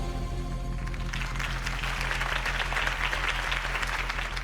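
Crowd applause follows a mayoral campaign speech for Harvey Dent in the Batman Telltale video game, a dense, steady wash of clapping that swells in after the first second and holds loud to the end.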